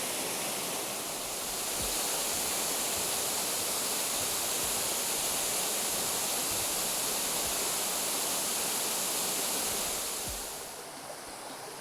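Steady broadband rush of a waterfall, Otome Fall, on Japan's 48 Waterfalls hiking trail, a constant wash of falling water heard close and loud with no voices.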